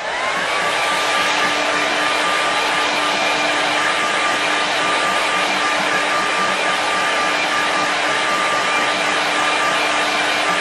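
A hair dryer blowing on a painted mountain landscape, a loud steady whooshing whine that runs unbroken throughout.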